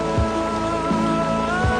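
Steady monsoon rain pours down continuously on a houseboat in the Kerala backwaters at Alleppey, loud and close, with a constant droning hum running underneath.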